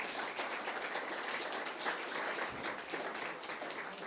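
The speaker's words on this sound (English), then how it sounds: "One more round of applause, please." A round of applause at a community launch event honouring three speakers, with dense, moderately distant clapping from a crowd holding steady for several seconds.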